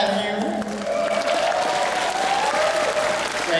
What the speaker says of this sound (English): Round of applause for Chef